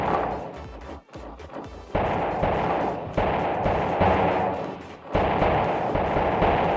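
Repeated mortar fire in a Godot-made war game: heavy booming impacts land roughly every second, each a loud broadband thump with a rumbling tail, overlapping into a continuous barrage.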